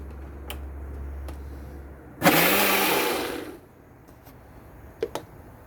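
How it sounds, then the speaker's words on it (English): An electric spice grinder runs in one short burst of about a second and a half outdoors during curry preparation, loud and whirring against quiet surroundings, followed by a couple of small knocks. "If you don't have this machine, don't worry, you can use ground spices as well."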